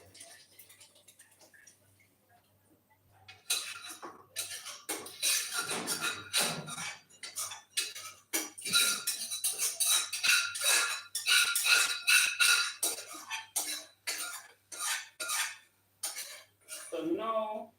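A spoon stirs cornmeal in a pot with peas, carrots, frankfurter and coconut milk, giving repeated close scraping and clinking strokes of metal against the pot in an irregular rhythm after a quiet start.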